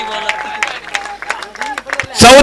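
A short burst of crowd applause and cheering breaks out at a local cricket match in Rahuri, MPPL 2021, marking batsman Madhur Dhule's half-century. It swells loudly at the very end, after a commentator talks over a quieter background.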